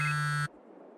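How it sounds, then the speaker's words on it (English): A phone ringing in the video game Farming Simulator 22: a steady electronic buzzing tone, loud and close, that stops abruptly halfway through and leaves quiet background. "Is that my phone ringing?"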